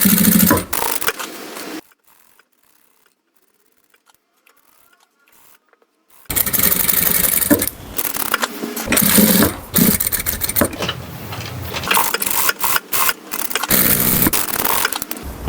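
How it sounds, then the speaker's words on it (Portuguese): A sewing machine stitching fabric around a border hem runs in loud, close bursts, falls silent for about four seconds, then resumes with a rapid, stuttering needle rhythm. "E vou passar a costura em toda a volta, sempre escondendo as pontinhas para elas não ficarem aparecendo aqui."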